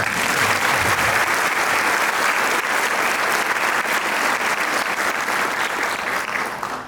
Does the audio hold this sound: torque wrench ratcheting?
no